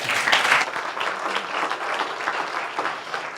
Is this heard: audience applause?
yes